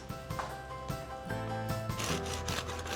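A knife saws through crisp, crusty, freshly baked focaccia in several scratchy, crunchy strokes, with soft music playing faintly underneath.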